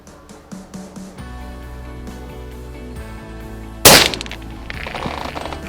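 Tikka T3 varmint rifle with GRS stock and TrueWorks silencer fires one suppressed shot during Egyptian goose control: a single sharp crack midway through, with quieter rustling and ambient noise before and after.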